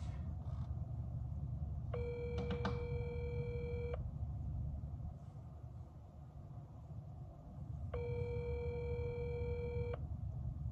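An outgoing phone call rings while the caller waits for someone to pick up. Two long electronic ringback tones sound several seconds apart over a constant low background hum, with no talking.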